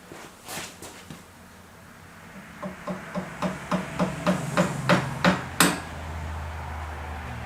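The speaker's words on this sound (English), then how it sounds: "get a little hammer." Small hammer tapping on parts of an Enfield 350 Bullet motorcycle, a couple of early knocks then a quickening run of about a dozen light metallic taps, close and distinct.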